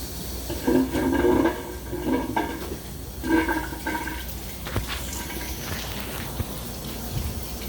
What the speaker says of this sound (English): So, we're filling it with water.